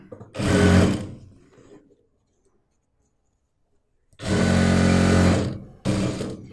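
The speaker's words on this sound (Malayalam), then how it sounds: "ഇനി നമുക്ക് ഇതുപോലെ അറ്റം വരെ അങ്ങോട്ട് സ്റ്റിച്ച് ചെയ്യാം" A sewing machine stitches along a folded denim bag strap cut from old jeans in two bursts of fast, loud whirring, with a long silent pause between them and a short final run of stitching.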